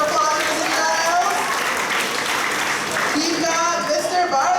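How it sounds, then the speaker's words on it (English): Audience applause for a judge at a high school spoken word event: steady, full clapping from a crowd throughout, loud and continuous, with a few voices and cheers mixed in. "big round of applause for Mr. Giles"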